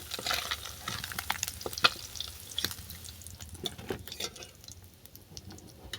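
Steady crackling sizzle of fish frying in hot oil, with occasional sharper pops and spatters, fairly close and without speech.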